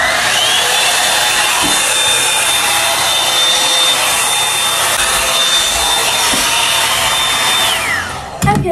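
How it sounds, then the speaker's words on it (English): A hair drying brush blows hot air in a steady, loud whirring hiss with a constant motor whine, running for several seconds before it cuts off with a couple of clicks. "It's like a hair drying brush, but it also works for like heat and stuff."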